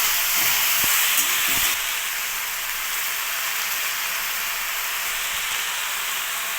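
Water poured into a hot pan of young field-grown taro sends up a loud, broad steaming hiss that stays near and steady, with a few soft clatters early on and no talking.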